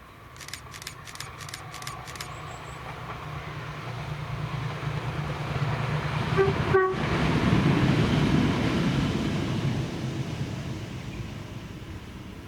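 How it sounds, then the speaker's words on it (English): A ScotRail class 318 electric unit, 318258, rumbles past on a Cumbernauld to Dalmuir service. A quick burst of ringing clicks comes first, then a steady rolling roar builds and holds, with one sharp bang midway. "the 1724 ScotRail service to Dalmuir from Cumbernauld with 318258"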